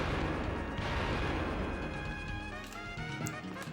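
Clive drops bombs in the video game Wild Arms 3: dense rumbling blasts and crackling impacts pile up loud and close, fading slightly near the end with a few bright chimes.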